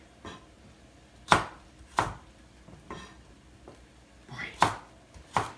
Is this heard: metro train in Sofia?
no